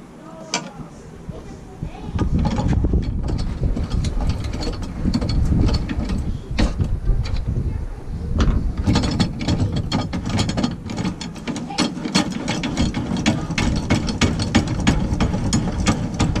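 Power saw cuts one inch off a metal jetty cart part, a steady grinding, rattling cut that runs loud and continuous after a quieter start, with talk mixed in.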